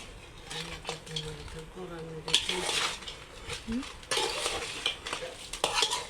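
Beef for kala bhuna is stirred and mixed with spices in a pot. Scraping and clinking utensil sounds come in irregular bursts, with a faint voice underneath in places.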